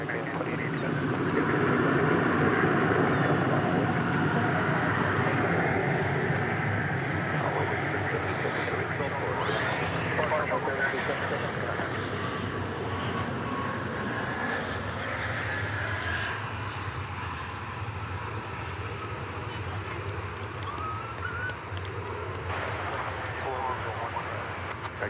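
An airliner bound for Los Angeles takes off at DFW Airport, its jet engines producing a long, broad roar that swells early and then slowly fades into the distance while someone talks throughout.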